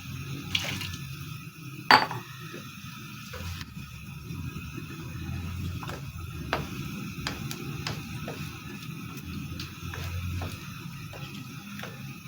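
Water is poured into a pot of aloo mongray curry, a steady close trickle and splash running for most of the stretch, with a couple of brief clinks from utensils.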